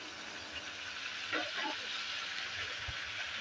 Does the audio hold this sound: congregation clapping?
no